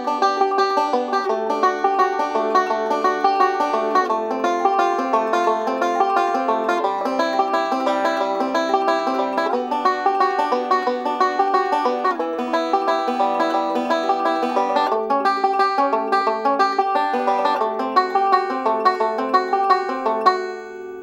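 Banjo picks continuous forward-reverse rolls, two rolls per chord as the chords change up the neck, producing a fast, even cascade of bright plucked notes, close and steady for about twenty seconds with no talking.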